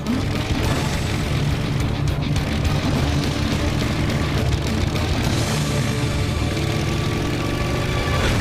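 Motorbike engine revving loud and close as a rider pulls away, a steady rough drone with bursts of throttle and no speech over it.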